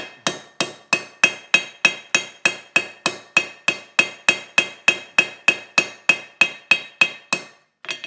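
A ball peen hammer taps down the edges of a rivet head on a small handmade garden tool: about twenty sharp, ringing metallic strikes in an even, quick rhythm, loud and close, then a brief stop.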